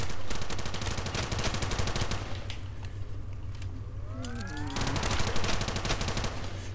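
An upgraded gun in a Minecraft zombies game fires in dense, rapid bursts that fill the scene almost nonstop, loud and close, with a short lull midway where in-game tones sweep before the shooting resumes.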